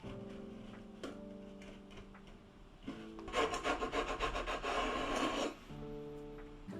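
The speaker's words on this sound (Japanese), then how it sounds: "余計な部分をのみと紙やすりで削っていきます" A chisel and sandpaper trim excess material from glued wood on a vintage Japanese guitar under restoration: light scraping at first, then a burst of fast, rhythmic rasping strokes, close and alone.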